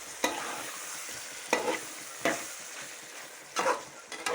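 Country chicken is stirred as it fries in masala in a pan, with a soft steady sizzle broken by four distinct scraping stirs of the spoon and no voices.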